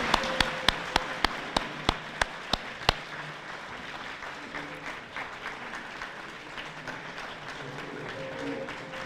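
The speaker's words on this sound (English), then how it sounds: "please join me in applauding her efforts for today's event" A community awards ceremony audience gives a round of applause for an honoree, starting with a few sharp, loud individual claps close by, then settling into softer, steady distant clapping from the room.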